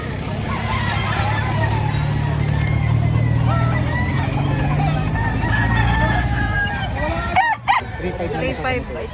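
Chickens and roosters at a live poultry market, with repeated crowing and clucking over a dense crowd murmur, people talking nearby and a passing vehicle.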